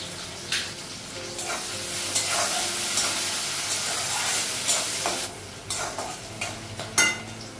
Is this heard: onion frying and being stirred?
yes